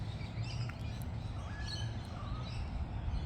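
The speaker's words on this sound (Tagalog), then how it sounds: "Ang saya ng mga ibon." Outdoors among trees and grass, birds chirp and sing faintly at a distance over a steady background hiss, with brief scattered calls rather than a continuous song.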